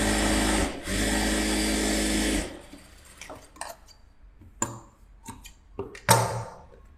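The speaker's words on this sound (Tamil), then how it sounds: "ஒரு ப்ரெஸ் தையல் போட்டுக்கிறேன்" A sewing machine runs a press stitch in one steady, close burst with a brief hitch near the start. It then stops, leaving scattered clicks and soft handling noises of fabric and machine parts.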